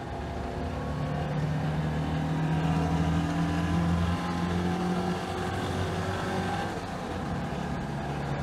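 Citroën 2CV engine freshly tuned, revving smoothly with rising and falling whine-like tones over a steady drone, moderately close and alone without speech.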